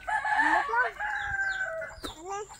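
A backyard chicken crows loudly and close by, then follows with a few short clucks.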